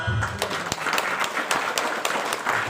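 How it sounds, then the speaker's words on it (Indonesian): An audience claps during a mosque sermon, a loose scattering of distinct hand claps at moderate distance that carries on steadily for a few seconds. "Tepuk tangan dulu."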